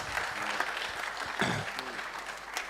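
Steady applause from an audience, a dense patter of clapping that holds for a few seconds with faint voices mixed in.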